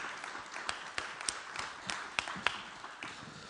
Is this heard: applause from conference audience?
yes